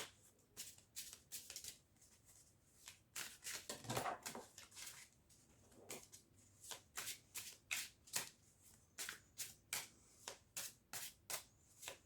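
Rider-Waite tarot cards are shuffled by hand up close, a quick series of crisp riffling bursts and soft slaps in a repeating rhythm, alone in a quiet room.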